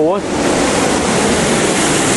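Water pours steadily at the Cheonggyecheon stream waterfall in Seoul, Korea, a loud, close, continuous rushing hiss; a brief voice is heard at the very start.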